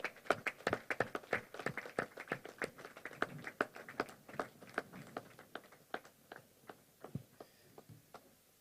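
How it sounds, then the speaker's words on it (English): Scattered, distinct hand claps from a modest audience at a mentorship and innovation event, a quick uneven patter that is fairly quiet and gradually slows and thins out toward the end. "Ladies and gentlemen, if your hands can clap, let's give it up for Ife Adebayo."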